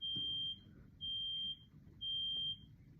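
Smoke alarm sounding during a hurricane power outage: three shrill, evenly spaced half-second beeps about a second apart, fairly loud indoors over faint background noise, with no talk.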